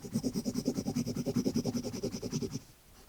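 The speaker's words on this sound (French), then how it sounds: "On va aussi colorier les pattes de Choum en orange" A marker or crayon colours in a drawing of a character's legs in orange, giving a rapid, rhythmic back-and-forth scratching of about two strokes per second, close and clear, that stops near the end.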